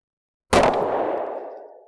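A single loud gunshot from an Ammo Incorporated Stealth subsonic round fired close by, a sharp crack that rings out in a long decaying tail.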